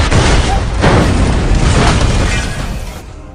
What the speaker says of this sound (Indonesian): satu mobil yang berada di depan mereka meledak karena sebuah serangan dari roket RPG